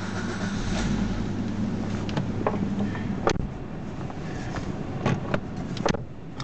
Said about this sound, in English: We'll just start the car up.